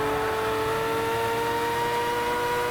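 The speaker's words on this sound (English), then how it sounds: "Pit stop for Venator Racing and Max Payne, bringing the BMW into the pits." A BMW race car in Gran Turismo rolls into the pits, its engine holding a steady, droning tone at close range with no talk over it.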